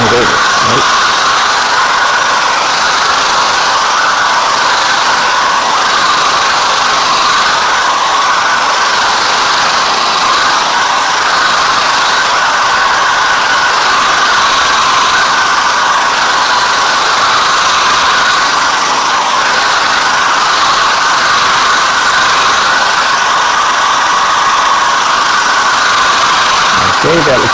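A hair dryer blows continuously to dry paint during a watercolour and gouache session, a loud steady whooshing roar that stays constant throughout.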